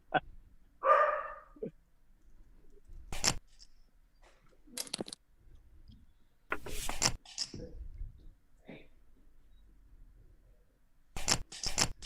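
Several dogs bark in short, sharp bursts scattered through the clip, some loud and close and others fainter, with quiet gaps between them.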